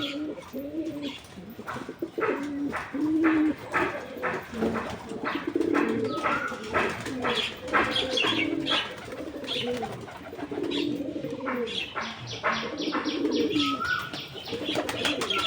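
Several pigeons, including a young one, coo continuously at close range in a domestic setting, with chirps and soft rustling mixed in and no speech.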